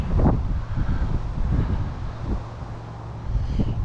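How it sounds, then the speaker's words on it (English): Strong cold wind buffeting the microphone beside railway tracks at Butterley, a continuous low roaring rush with gusts rising and falling, no voice. "Oh, blimey, it's windy, if you can hear me, it's windy."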